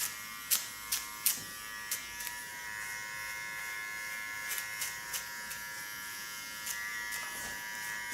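An electric hair trimmer buzzes steadily up close while tidying a woman's neckline, a continuous whine broken by several sharp clicks and taps as it moves against the skin.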